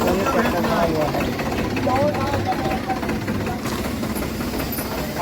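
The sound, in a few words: tractor engine idling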